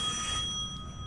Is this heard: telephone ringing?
yes